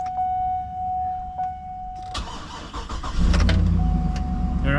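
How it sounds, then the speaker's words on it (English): Car chime pings before a starter motor whirs and cranks the engine over, which catches into a loud, close running engine; a fairly quiet replacement starter on a daily-driver car. "Much more quiet on that starter. That's a nice starter."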